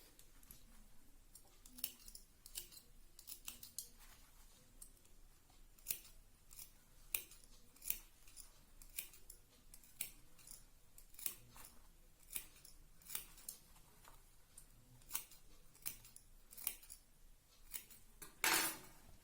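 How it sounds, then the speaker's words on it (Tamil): Scissors snip steadily around a piece of reusable old cloth, a long run of crisp, close cuts in an irregular rhythm with brief pauses between strokes, quiet and alone without any voices. "இதை சுத்திலுமே கட் கொடுத்துட்டு"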